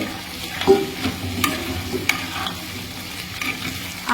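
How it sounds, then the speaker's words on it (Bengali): Onions frying into birista for a homemade chicken biryani, a steady close sizzle with occasional stirring clatters and no voices. "আর এখানে হচ্ছে বেরেস্তা করা হচ্ছে"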